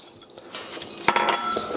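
Seasoning mixed and chicken wings for Korean-style wings coated in a bowl, heard as close clinks and scrapes of a utensil against the dish, with one sharper knock in a brief burst.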